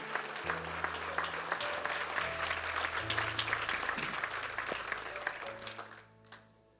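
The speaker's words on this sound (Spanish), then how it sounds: "Un aplauso al Señor" A church congregation applauds in a dense, sustained wash of clapping that holds steady for several seconds before fading out, while a low sustained music tone plays beneath it.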